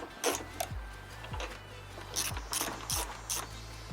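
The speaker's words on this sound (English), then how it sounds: "we want to get the T40 and undo these 2 bolts" A T40 Torx driver works bolts loose on a Jeep Wrangler, giving off a close series of rapid ratcheting clicks and whirring bursts over a low steady hum.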